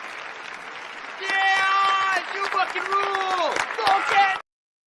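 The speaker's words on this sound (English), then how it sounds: "Let's get you some claps." Applause sound effect of a crowd clapping, a dense steady patter that rises in loudness, heard beneath bright musical tones and talk.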